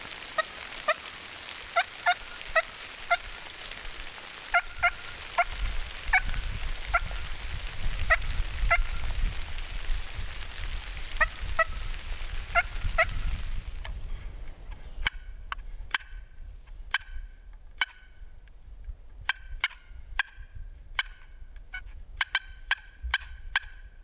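Turkey hen calls sound out in short, repeated yelping bursts, mixed with gobbling over a low rumble, then continue more sparsely and clearly against quiet.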